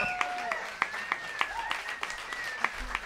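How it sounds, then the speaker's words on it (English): Crowd applause at a blues concert held at a jazz museum, scattered claps and whoops at moderate volume mixed with cheering voices and tonal shouts, an ongoing ovation rather than a single burst. "Hey, Jazz Museum, give yourselves a round of applause."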